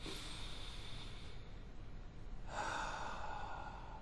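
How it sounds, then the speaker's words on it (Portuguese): Slow, deep diaphragm breaths close by, a long airy inhale followed by a steady exhale, quiet and without any talking. "Fica respirando pelo diafragma até conseguir ficar isento daquilo ali."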